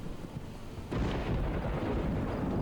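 Thunder rumbles during a heavy rainstorm in the Project Zomboid video game, a low rolling boom swelling suddenly over the steady hiss of rain and then sustaining loudly.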